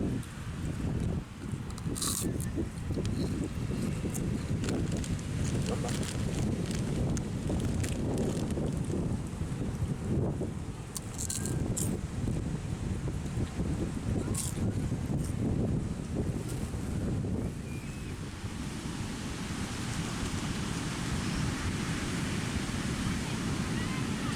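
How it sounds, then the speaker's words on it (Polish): Surf and wind on La Barqueta beach on the Pacific coast make a constant broad roar, with breaking waves and gusty microphone wind. Faint voices come through now and then. "Jesteśmy na plaży. Plaża La Barqueta."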